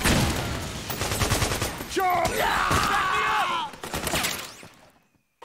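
Gunfire in Metal Gear Solid 4: Guns of the Patriots, rapid bursts of close, loud shots mixed with shouting and battlefield clatter, cutting off abruptly at the end.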